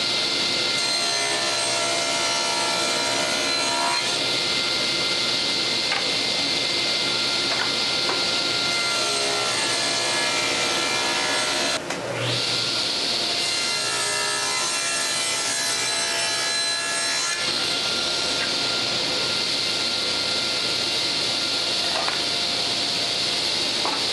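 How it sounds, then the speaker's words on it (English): A saw works steadily through wooden dowels in a workshop, a loud continuous rasping stroke that runs without pause, with one brief break in the cutting midway and no talk. "we're ready to start cutting some dowels"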